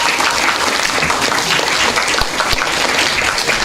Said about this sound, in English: I feel like she deserved a bigger round of applause than that.